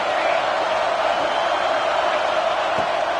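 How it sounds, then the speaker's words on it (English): Football stadium crowd roaring on third down, a dense, steady wall of loud cheering that holds without a break. "Decibels rising as the crowd gets behind this defense on 3rd down."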